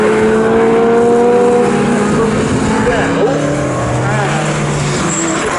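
Saloon race cars roar around Snetterton circuit, engines loud and sustained with shifting pitch as they pass, under a commentator's continuous talk.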